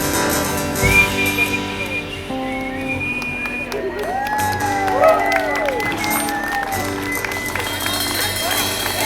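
Whistles and cheers rise from an outdoor park concert crowd, with long sliding whistles in the middle and voices talking throughout.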